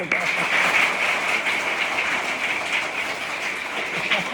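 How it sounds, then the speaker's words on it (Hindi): Schoolchildren at a government middle school clap loudly together, giving a dense, continuous burst of applause that lasts several seconds without letting up. "चलो तो एक बार जोर से ताली बजाओ।"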